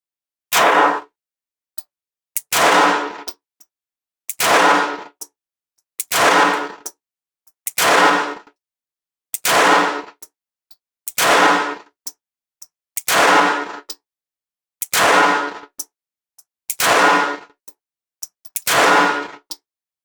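Ten sharp, loud shots from a Springfield Hellcat .380 pistol at a shooting range, spaced evenly about two seconds apart, each with a short ringing decay and no talking.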